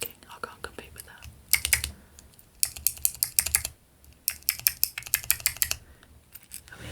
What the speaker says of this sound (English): there's not a huge amount you can do with this other than the obvious clicking. A little bit of plastic tapping.